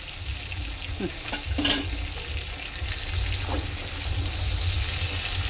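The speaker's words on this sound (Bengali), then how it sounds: "দেখুন পাল্টি করে দিয়েছি, দুটো চামচ দিয়ে পাল্টি করতে হয়েছে আমাকে, দুটো ধরে।" Bombil fish pakoras fry in oil with a steady sizzle, while two spoons turning them add a few clinks and scrapes near the start and middle.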